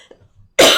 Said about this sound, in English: I have not coughed once all day.